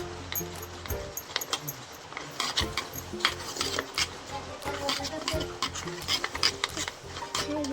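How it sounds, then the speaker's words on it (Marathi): Besan (gram flour) batter being stirred with water to break up lumps: repeated scraping and rubbing strokes of a spoon against the pot, close and fairly quiet, in an irregular steady rhythm. "आणि असं हलवून घ्यायचं. बेसनच्या सगळ्या गुठळ्या फोडायच्या."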